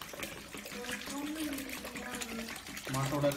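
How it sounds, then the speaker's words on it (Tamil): Cow urine is poured into a container for mixing, a continuous splashing, trickling stream of liquid with a faint rising fill tone, partly under a person's talk. "இந்த கோமியத்தை வந்து இப்போ மிக்ஸ் பண்ண போகிறோம்"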